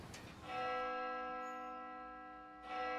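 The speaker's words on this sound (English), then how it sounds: "The bell is ringing." A school bell rings in the horror game Spirit Hunter: Death Mark II, a loud sustained metallic tone with bright harmonics that holds and slowly fades for about two seconds before a second strike begins.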